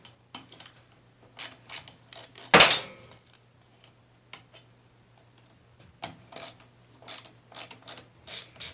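A Phillips screwdriver is worked on the carburetor screws of an Echo HC2400 hedge trimmer, giving quiet intermittent clicks and small metallic taps up close, with one louder clatter partway through.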